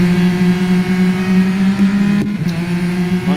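Acura NSX GT3 race car engine in the Real Racing 3 game hums at a steady, loud pitch, a sustained in-car drone with a brief dip midway.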